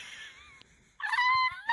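A pet cat lets out a loud, high squeal of delight, preceded by a fainter drawn-out mew; close and alone, with no talking.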